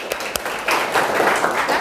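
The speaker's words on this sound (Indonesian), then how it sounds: "Tepuk tangan buat kita semua." Participants in a university teaching session applaud after a group discussion, a few scattered claps at first, then a denser, sustained wash of clapping at moderate loudness in a room.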